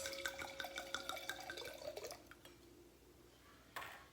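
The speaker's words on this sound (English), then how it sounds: "let me pour some of this into my glass" Wine from a Trader Joe's bottle, opened with a Cuisinart wine opener, pours into a glass in a close, gurgling stream for about two seconds, then fades to near quiet before a brief clink.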